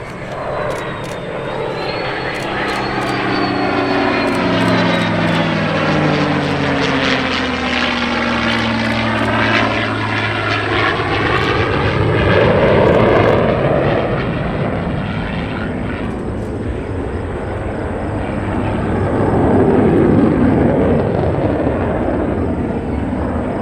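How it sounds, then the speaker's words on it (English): A formation of World War II P-51 Mustangs passes overhead at the Cleveland airshow, their piston engines and propellers swelling into a loud, steady drone that shifts in pitch as they fly by, continuing throughout with no talk. "Flying in formation today are a World War II P-51 formation flight."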